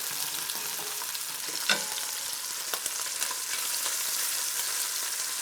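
Sausage frying in olive oil in a pan, stirred now and then, as it cooks for orecchiette with broccoli rabe: a steady, dense sizzle with a few sharp spoon clacks, close and alone.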